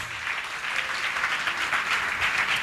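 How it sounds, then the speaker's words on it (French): A church congregation breaks into applause during a sermon, a dense, even wash of many people clapping that holds at full strength for the whole moment with no voice over it. "Est-ce qu'on peut acclamer le Seigneur?"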